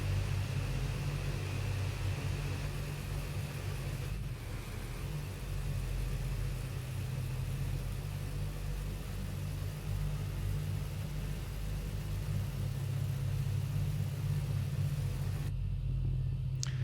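In the Prepar3D flight simulator, a DC-6 airliner taxis with a constant low engine rumble that stays steady and moderately quiet throughout, with no speech over it.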